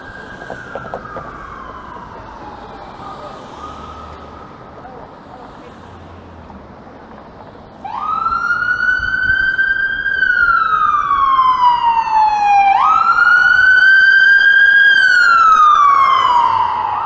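Emergency sirens wailing on a downtown Toronto street, a distant tone at first, then a loud rising and falling siren sweeping past nearby over traffic noise.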